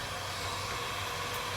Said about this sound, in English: I'm gonna go ahead and heat this up.